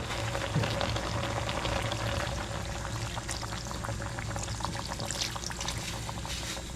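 First-press coconut milk is poured into a pot already boiling on the stove for a salmon dish, giving a steady close bubbling and sizzling wash with a soft liquid pour.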